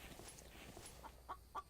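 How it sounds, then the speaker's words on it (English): A chicken in a survival video game clucks faintly a few times in quick succession over a low, steady background hum. "I hear another chicken."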